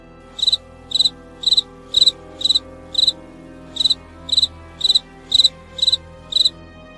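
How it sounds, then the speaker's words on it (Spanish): Crickets chirp in short, evenly spaced pulsing bursts, about a dozen in steady rhythm, clear and fairly close against a quiet night background with no voices. "solo podía escuchar los cantares de los grillos"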